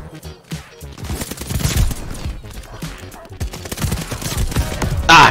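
Rapid gunfire in the online shooter Call of Duty Vanguard, dense bursts and shots layered over each other in a busy firefight, with some talk mixed in.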